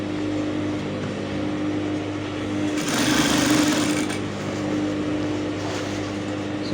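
Sewing machine running steadily as it stitches around the elastic waist of three-quarter trousers, a continuous close hum with a slightly louder stretch midway and no talk.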